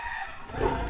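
A hen on a small farm gives loud, close fowl calls, clucking with a crowing edge, steady through the whole second with no talk.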